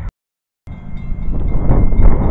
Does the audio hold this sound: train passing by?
yes